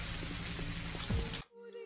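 Steady video-game rain hisses densely on surfaces, then cuts off abruptly partway through, leaving a faint, quiet tone.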